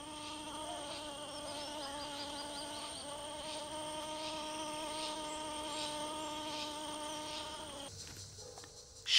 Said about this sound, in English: Busy green bees.